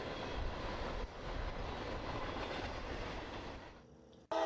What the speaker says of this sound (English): Ah yes, the Norfolk Southern brick geometry train.